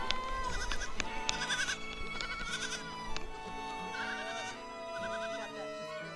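Grazing goats bleat repeatedly at moderate distance, several overlapping wavering calls rising and falling over a soft outdoor background.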